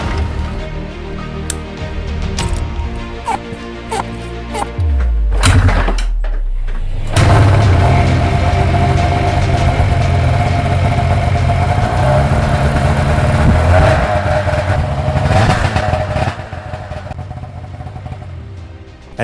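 A cold snowmobile pull-started: a rattling pull and sputter, then the engine catches and runs loud and steady at a rough idle, close by, with no talk.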